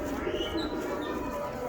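Soft, close pigeon cooing sounds over a low, continuous background murmur in a bird keeper's loft.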